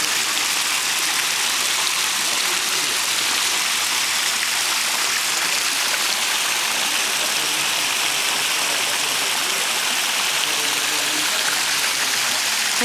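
Thermal spring water at a hotel spa in Pamukkale, Turkey, flows in a steady, close, hissing rush that stays constant throughout, with no voices.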